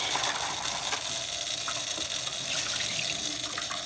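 Water drains steadily from soaked wheatgrass seeds being strained, a continuous close splashing trickle like a running tap, fairly loud and with no speech.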